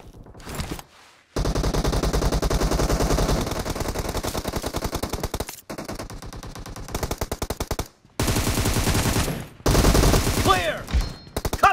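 Rapid automatic gunfire from PUBG Mobile team deathmatch, loud sustained bursts of machine-gun fire with brief gaps, overlapping volleys throughout.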